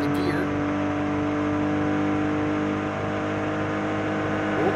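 Car driving in the No Hesi highway traffic racing mobile game, a continuous loud engine whine with steady harmonic tones, holding a fairly even pitch throughout.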